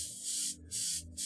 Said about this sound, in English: just spray black over it generally